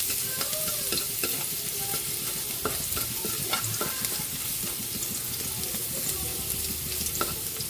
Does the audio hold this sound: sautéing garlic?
yes